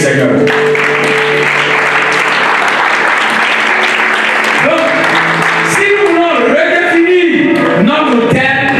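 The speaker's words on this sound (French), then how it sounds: "Est-ce qu'on peut acclamer le Seigneur?" A church congregation at an Easter service applauds loudly and continuously to acclaim the Lord, with a voice rising over the clapping toward the end.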